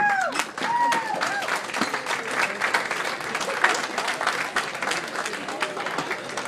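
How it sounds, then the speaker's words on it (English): A wedding reception crowd applauds after a toast, with sustained loud clapping filling the room and cheers and voices mixed in throughout. "Please, if you would give Mona a nice round of applause for her toast, if you would."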